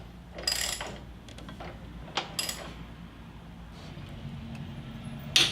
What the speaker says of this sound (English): so that you can get a torque wrench on them